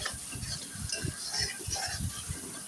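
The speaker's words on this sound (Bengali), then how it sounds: "ভালোভাবে খাসির মাংসটা কষিয়ে নিতে হবে" Mutton pieces with spices stirred and fried in a pan, a steady stream of soft scraping and sizzling with irregular low thumps of the spoon, close and continuous without talk.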